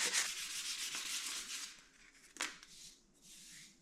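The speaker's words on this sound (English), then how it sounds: "we're gonna give them a little hand sanding with some 320" Steady back-and-forth scratching of 320-grit sandpaper rubbed by hand over a wooden spurtle, close up, with brief pauses between strokes.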